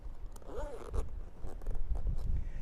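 A zipper on a compartment of a Paratech MultiForce air lifting bag is pulled open in one quick close rasp, followed by rustling and handling noises.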